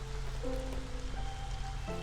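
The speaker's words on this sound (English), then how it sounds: "Because it's drizzle, and we need to take advantage of it." Light drizzle in the game Against the Storm, a faint, steady hiss of fine rain running continuously under soft, sustained musical tones.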